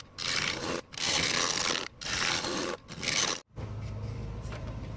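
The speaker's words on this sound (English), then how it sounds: "So I'm going to switch over to my round carbide and see if I can just kind of scrape them a little bit" Round carbide tool scraping a mesquite winged bowl spinning on a wood lathe: loud, continuous rasping passes in several bursts with brief pauses, then a lower steady hum of the lathe running alone.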